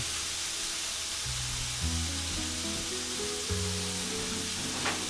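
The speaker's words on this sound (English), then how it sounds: "you cook it as normal, stirring in your onions, and cook it until it's lightly browned or to your liking" Ground beef with spices and onions browning in a pan for a homemade beef pizza, giving a steady broadband sizzle with a few faint scrapes and soft low tones underneath, with no talking.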